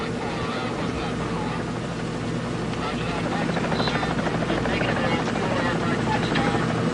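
Steady, heavy rotor thump and engine drone of helicopters on a ship, loud and continuous throughout, with a dense broadband roar.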